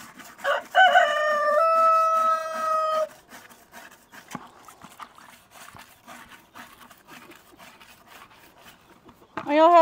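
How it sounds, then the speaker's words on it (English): Roosters crow in a long, loud call near the start with harmonic tones, then a quieter stretch of farmyard noise follows before another crow cuts in sharply at the end. "Are y'all having a crowing competition?"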